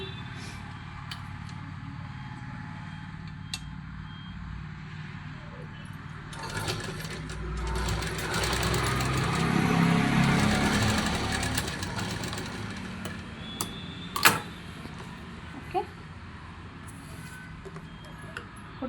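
A sewing machine runs in steady, whirring bursts while stitching a saree petticoat and its waistband, with someone talking over it close by and a few sharp clicks near the end.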